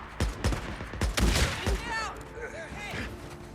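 Several sharp gunshots from the open-world game Days Gone ring out in quick succession nearby, trailing into fainter game sounds.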